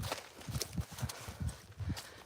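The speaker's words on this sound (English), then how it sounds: "I have about 10 horses." Several horses walk at a steady pace, their hooves clip-clopping in an irregular overlapping rhythm, fairly close and moderately loud, with no talking.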